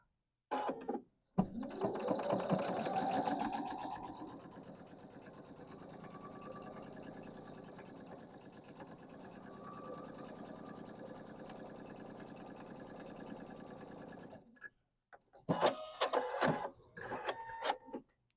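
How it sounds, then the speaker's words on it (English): A sewing machine stitches a line across a quilt block in one long run, fairly close but moderate in level, with brief clattering sounds after it stops. "Now I'm going to sew my second line."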